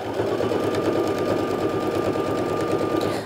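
A sewing machine runs steadily and close, stitching a straight binding strip along a fabric edge in one continuous whirring, rattling run with no pauses.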